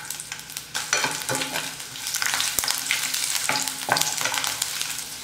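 Garlic cloves and ginger sizzle steadily in hot oil in a kadai for a Tamil chicken gravy, a close, continuous crackling fry with occasional sharper spits and stirring scrapes, no voices.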